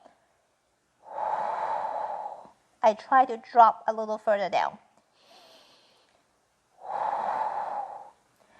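Slow, deep breaths during an upper back stretch, a long audible exhale before and after a short spoken line, close to the microphone with quiet pauses between.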